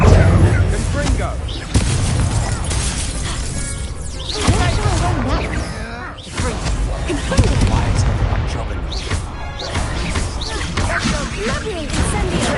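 Confringo fire spell blasts crack and burst repeatedly during Hogwarts Legacy combat. The loud impacts come in irregular clusters over a busy battle soundscape, with voices speaking intermittently.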